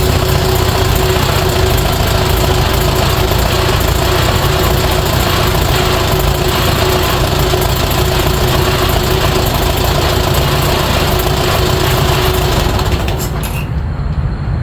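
A 1952 Farmall Super A tractor engine runs loud and close at a steady idle with a dense, even chugging rumble that continues without talk until it drops off abruptly at the end.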